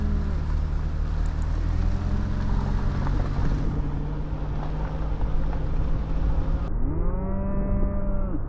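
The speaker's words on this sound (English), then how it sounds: "please enjoy the cow show as I head out of here" Cattle on a rural road moo loudly and repeatedly, long drawn-out lows from several cows close by, over a steady engine rumble.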